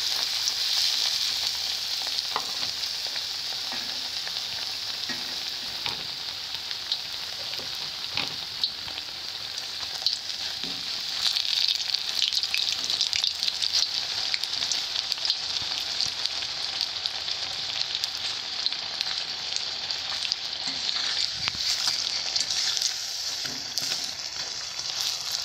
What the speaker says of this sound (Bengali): চপের মতো করে ভেজে নেব।